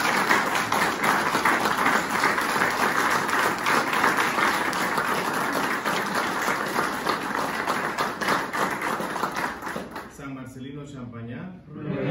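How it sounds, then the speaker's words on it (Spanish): Sustained applause from a congregation at a San Marcelino Champagnat feast-day Mass with the Marist Brothers, dense clapping that gradually thins and fades out near the end as a voice begins over it. "Vamos a darle un fuerte aplauso a él."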